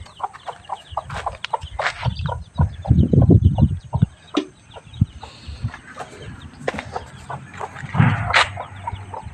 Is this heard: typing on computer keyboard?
no